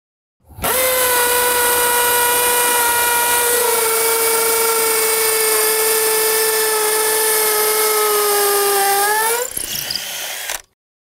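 A dual-mode hammer drill with impact and high speed bores holes for Tapcon concrete screws, a loud, sustained high-pitched whine lasting about nine seconds before it winds down and stops.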